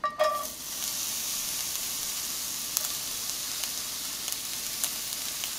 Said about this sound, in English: Add your finely chopped onions.